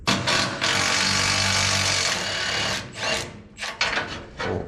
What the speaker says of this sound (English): we'll hit the impact on the outside and it should come right off of there